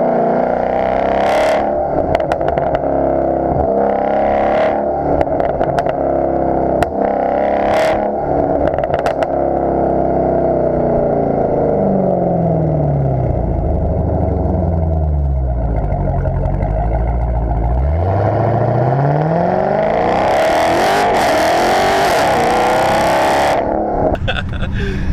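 A 2016 Dodge Challenger Hellcat pulls hard in second gear, the loud engine note sweeping down and back up with rising revs and whine, heard from inside the car.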